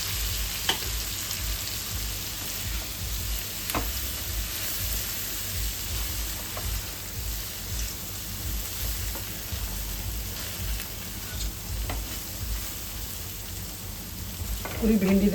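Okra (bhindi) frying in oil in a pan makes a loud, continuous sizzle, with occasional clicks and scrapes of stirring throughout.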